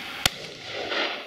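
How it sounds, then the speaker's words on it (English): A single shotgun shot at a pheasant and partridge shoot in Dorset cracks out once, sharp and fairly distant, over quiet open-air background. "A shot, Kev."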